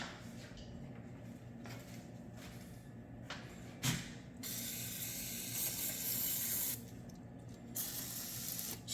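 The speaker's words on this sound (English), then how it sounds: "I'm going to spray some lubricant" WD-40 lubricant sprayed onto a Ford Focus motor mount, heard as two short aerosol hisses followed by a longer sustained spray burst, close up, over a steady idling engine rumble.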